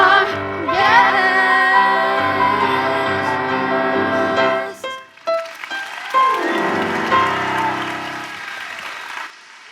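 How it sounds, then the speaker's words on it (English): Applause from an audience at a school spring show after a third grade song, clapping building and fading over a loud mix of sound with tonal, music-like elements. "Let's give them another round of applause"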